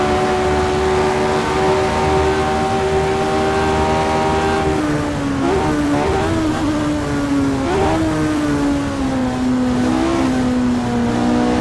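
A 1960s racing car engine at Monza in a video game drones loudly and steadily, its pitch dipping and wavering mid-clip as the revs shift, with no talk over it.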